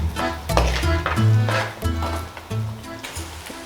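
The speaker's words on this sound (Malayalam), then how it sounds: "ചെറിയ ഉള്ളി ഇട്ട് അതൊന്ന് വഴണ്ടതിന് ശേഷം സവോള ഇട്ട് ഒന്നുകൂടെ ഒന്ന് മൂപ്പിക്കും" Small onions sizzle and fry in a pan for a Chettinad mutton roast while a spoon stirs and clinks against the metal, loud and close throughout.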